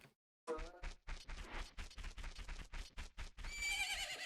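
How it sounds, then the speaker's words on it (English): A horse in the video game Zelda: Majora's Mask neighs loudly, a whinny followed by rapid hoof clip-clops and a rising whistling game effect at the end. "Isn't that your horse?"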